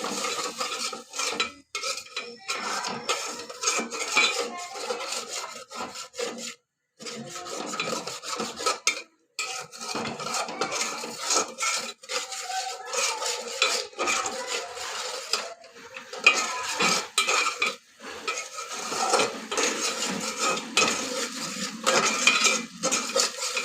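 Spice paste being stirred and fried in a pan while cooking shing fish, with rhythmic scraping and rubbing of a spatula against metal, broken by short pauses, over a faint sizzle and with no speech.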